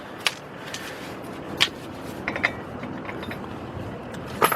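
Ratchet working on the front brake caliper bolts of a 2003 Chevy Trailblazer, a few sharp clicks and clunks spaced out over near, quiet mechanical noise, with no talk.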